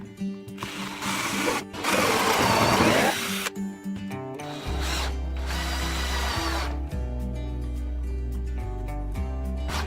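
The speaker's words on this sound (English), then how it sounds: "Again I came back with my drill bit and countersink to drill the holes in each support" A power drill fitted with a countersink bit bores holes into wooden supports, giving several bursts of high whirring and chewing of wood with short pauses between, then a lower steady motor hum, all close up and without speech.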